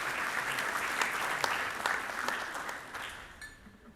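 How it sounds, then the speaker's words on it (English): Applause fills the room at the GABBY Award ceremony, a steady, moderately distant round of clapping from a seated crowd that tapers slightly near the end. "let's give them another round of applause."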